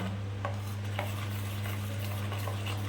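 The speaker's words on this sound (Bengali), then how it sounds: "এটাকে ভালো করে আমি প্রথমে মিশিয়ে নেব" Ingredients for steamed hilsa, ilish bhapa, are stirred together in a bowl: faint, sparse scraping and tapping strokes over a steady low hum, quiet and close.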